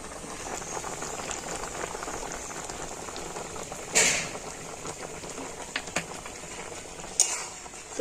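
A pan of raw mango pickle cooked with jaggery and vinegar bubbles steadily in a continuous simmering hiss, broken by a few louder pops and clinks near the middle and end.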